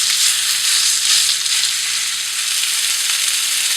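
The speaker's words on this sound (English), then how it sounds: "Now that you're finished browning your stew meat" Stew meat browning in a hot pan for beef burgundy, a loud, steady, bright sizzle of searing beef that carries on without a break from start to end, with no voices over it.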